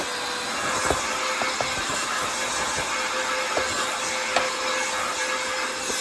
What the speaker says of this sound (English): we're going to take our blower and we're going to blow any more dust that might be in there out.